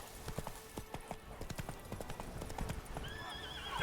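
Roach, a horse in The Witcher 3, gallops with a quick, rhythmic clip-clop of hooves, fairly faint and steady, rising at the end as a brief higher tone enters.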